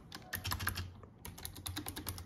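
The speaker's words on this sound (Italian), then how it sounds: "Questa tastiera è l'ornata croma della Razer" A Razer Ornata Chroma keyboard clatters under quick typing, dense bursts of light key clicks close to the mic with a brief pause in the middle, and no voices.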